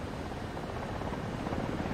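A helicopter flies in War Thunder, its rotor and engine making a steady, droning whir that holds at an even level throughout.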